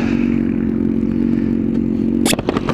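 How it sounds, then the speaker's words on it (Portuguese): A motorcycle idles with a steady low rumble until the engine is switched off near the end, when the drone drops away into a brief clatter and crackle. "vou desligar minha moto, porque gasolina não tá dando em árvore por enquanto"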